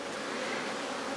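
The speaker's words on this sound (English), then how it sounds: "lots of bees" Honey bees buzz steadily at an open hive during a brood inspection, a dense, close, continuous hum with no talk over it.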